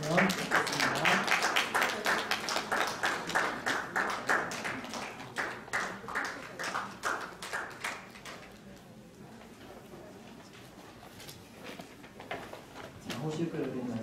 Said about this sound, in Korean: 축하할 때 박수로 축하해 주셨으면 좋겠습니다.